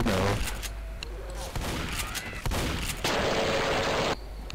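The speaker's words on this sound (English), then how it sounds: "First time I've used a shotgun." Shotgun blasts and other gunfire crack repeatedly in a zombie video game, loud bursts layered over game noise, with a player's voice faintly mixed in.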